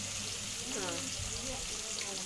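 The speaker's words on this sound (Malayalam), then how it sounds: "എണ്ണയിൽ കിടന്ന് തുള്ളിക്കളിക്കുന്ന കണ്ടോ നമ്മളെ മീൻ." Fish fries in hot oil, making a continuous hissing sizzle while a person talks over it.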